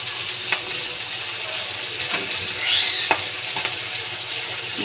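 Ginger, garlic and chili sautéing in oil in a pan for a chicken leg dish, with a steady close sizzle and occasional sharp clicks of a stirring spoon, no talking.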